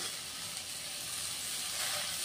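Tomatoes fry in a little oil in a pan, giving a steady close sizzle with soft hissing crackle and no talking, while they are cooked down for a ridge gourd peel chutney.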